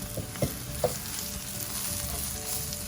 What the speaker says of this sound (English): Mix it nicely so that it's coated evenly with all the onions.